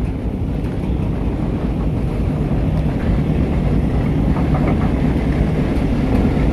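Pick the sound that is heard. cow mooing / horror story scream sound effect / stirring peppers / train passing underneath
train passing underneath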